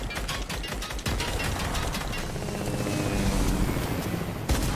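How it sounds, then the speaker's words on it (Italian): A helicopter in a Fortnite match thrums with rapid, loud rotor chopping that fills the whole stretch. Sharp clattering bursts mix in and the noise stays dense throughout. "Altro elicottero."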